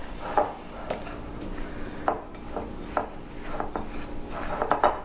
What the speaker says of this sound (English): Wooden spoon works really good here. Combine it.